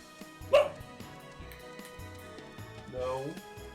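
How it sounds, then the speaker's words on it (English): A pet dog barks indoors, two separate sharp barks with a whimpering yelp, near and moderately loud, while a person talks in between. "There's no reason for you to be barking."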